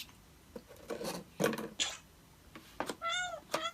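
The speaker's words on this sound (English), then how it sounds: "Cat piano." Cat meow sounds come from a Nintendo Labo Toy-Con cat piano made of cardboard, with one clear melodic meow near the end amid scattered rubbing, tapping and handling noises of the cardboard toy.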